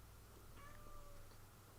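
Kai, a pet cat, gives a single faint, drawn-out meow against a quiet indoor background.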